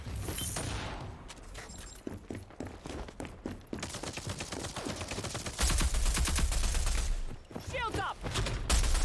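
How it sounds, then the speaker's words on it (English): Rapid gunfire bursts and blasts crackle through a Rogue Company match, loud and dense with repeated shots, while a voice talks intermittently over the firefight. "She's got this freaking shotgun."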